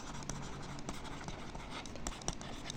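Pen writing on paper during a Class 9 maths lesson, a steady scratchy stroking with small taps as strokes begin, close and fairly quiet, with no talking.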